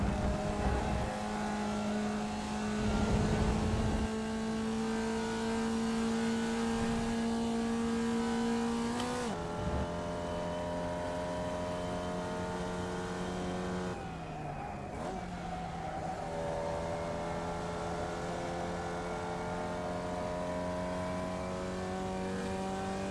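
A race car engine in practice inside a racing game holds a loud, steady high drone, then the throttle is blipped twice and the pitch drops and rises again, continuing without voices.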